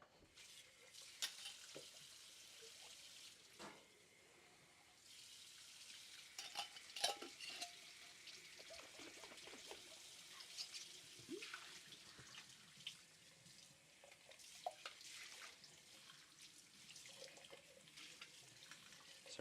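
Tap water runs and splashes into a kitchen sink while a small jar is washed by hand, a steady close wash of water with clinks and rubbing, no talking.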